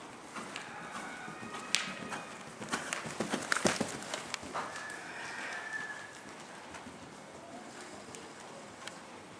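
Horse hooves clattering in a burst of rapid clip-clop beats as a horse gallops off at the start of a race, fairly faint and distant, fading into a noisy outdoor background with a few birds.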